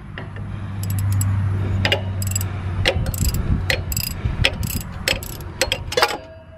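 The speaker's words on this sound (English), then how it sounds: "Okay, we're taking a half inch wrench." A half-inch wrench loosens a nut on the water pump of a 3.8L Cummins engine in a Case 580: a rough grinding strain followed by a run of crisp, irregular ratcheting clicks, close and alone.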